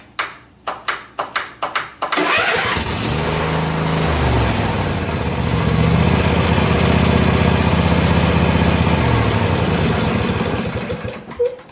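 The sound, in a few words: Snapper riding mower engine starting and idling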